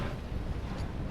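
Cold wind buffets a boat at sea, a loud, steady low rush with no talking.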